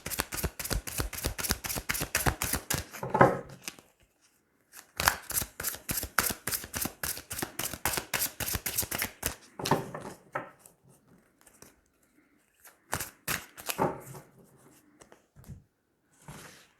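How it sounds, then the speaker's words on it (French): A tarot deck is riffled and shuffled in rapid bursts of dense, close card flicks, split by brief pauses, followed by softer scattered snaps as three cards are drawn and laid down, with no voice over it. "Donc, on va y aller, on va tirer 3 cartes."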